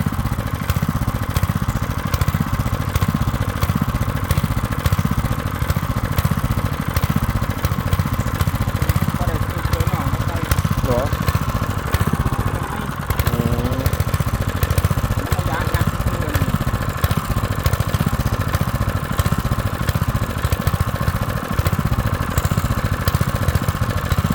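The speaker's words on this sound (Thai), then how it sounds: "ตอนนี้กำลังจะสูบน้ำเอาไปใส่นา" A small engine-driven water pump chugs steadily and loudly throughout, filling a rice field, a continuous rough drone with rattling, while voices talk faintly beneath it.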